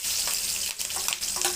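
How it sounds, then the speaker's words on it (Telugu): Green chillies hiss and crackle in hot oil with tempering seeds, a loud close sizzle with a few sharper pops and stirring scrapes, no talking. "పచ్చిమిరపకాయలు కూడా వేస్తున్నా."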